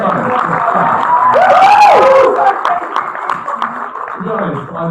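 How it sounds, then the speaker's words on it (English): A crowd at a student election debate night cheers and claps for Sophie, with a rising whoop in the middle and loud, lively clapping mixed with voices that tapers off afterward. "round of applause for Sophie"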